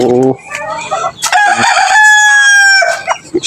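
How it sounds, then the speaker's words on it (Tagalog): A rooster crows loudly and close, a long drawn-out call, with hens clucking briefly before and after. "mga manok."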